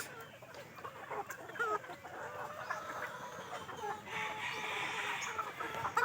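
Gamecock stags raised for fighting cluck and call in a farm yard, with scattered bird sounds over a steady outdoor background at moderate distance.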